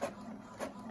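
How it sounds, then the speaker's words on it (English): Inkjet printer laying lines onto coffee-dyed fabric, two quick mechanical swishes of the print head passing close by, faint and short. "it seems to be printing really well"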